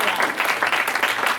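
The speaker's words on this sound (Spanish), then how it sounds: "Denle palmas a Cristo" A church congregation claps together in dense, continuous applause, loud and close, with voices mixed in.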